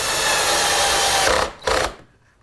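A power drill drives screws from the inside to fix a walnut table rail, with a steady whirring buzz that stops and restarts in a short final burst, close and loud, no talking.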